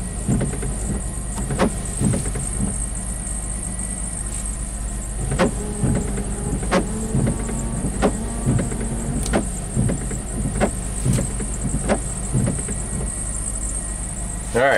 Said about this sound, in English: Alright, so it's not misfiring anymore.